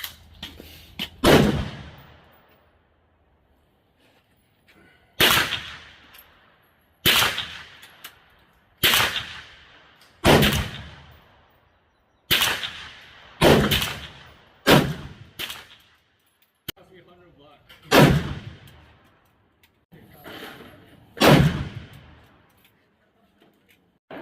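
A .30-30 rifle fires about a dozen loud, sharp shots during load testing of handloaded rounds with BLC2 powder. The shots are spaced several seconds apart outdoors, each with a quick echoing decay and quiet between.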